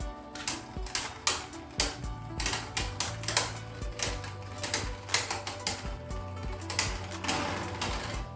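Beyblade Burst QuadDrive spinning tops from the Collision Nebula set clash in a stadium battle, giving sharp repeated clacks and rattling impacts over a continuous whirring spin, fairly quiet and close.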